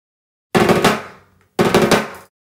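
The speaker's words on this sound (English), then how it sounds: "two rack toms, one being high," High rack tom from a five-piece drum set, struck twice about a second apart, each hit loud and booming with a quick attack and a ringing decay, played alone.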